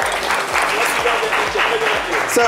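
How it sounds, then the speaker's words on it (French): A studio audience at a French morning show applauds, a dense, continuous clapping that stays loud and steady throughout. "merci de l'applaudir s'il vous plaît"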